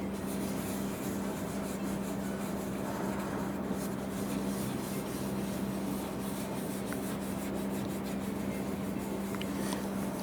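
A rag works shellac into the oiled wood of a Taylor guitar, giving a steady, soft scrubbing sound up close, continuous and even with no talk.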